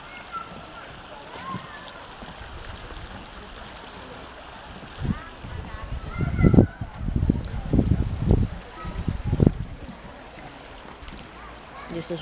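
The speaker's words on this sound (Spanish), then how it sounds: "Esto es un río." A mountain river flows with a steady broadband rush, joined midway by louder thumps and scuffs from someone walking nearby. A person talks quietly in places.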